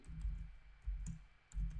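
Keys clicking on a computer keyboard while Java code is entered, quiet and close, in three short clustered bursts separated by pauses.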